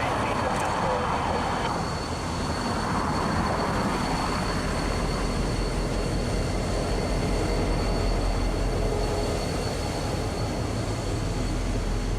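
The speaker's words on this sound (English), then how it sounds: "7003 is an EMD SD50 locomotive that was originally built in 1985." An EMD SD50 freight locomotive, built in 1985 and once in Conrail blue, rolls along the Kansas City Southern line near Shreveport with a steady low rumble and rail noise throughout, loud and continuous.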